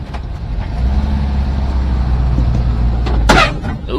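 1970 Brazilian 23-window Volkswagen bus driving on the road, a steady low engine rumble and road noise throughout with a brief sharp rattle near the end, no voices.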